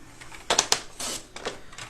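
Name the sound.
paper cut with a guillotine paper trimmer (massicot)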